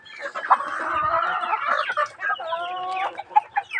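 Chickens cluck busily while feeding, a close, continuous run of throaty clucks and short rising calls from several birds.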